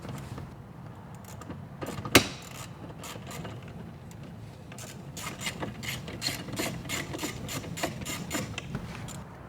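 A ratchet wrench loosens the 7 mm driver-side mirror bolts on a 2011 Lincoln Navigator, close rapid clicking bursts in repeated strokes with one sharp knock early, no talk.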